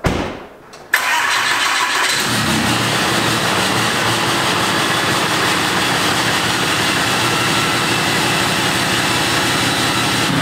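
A first-generation Cummins diesel pickup cranks briefly and fires up, then settles into a loud, steady close-up rumble of idle for the rest of the clip, with no voices.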